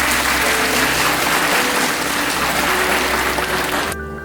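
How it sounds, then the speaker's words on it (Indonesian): A crowd claps loudly in a dense, steady burst of applause that stops abruptly near the end. "Tepuk tangan."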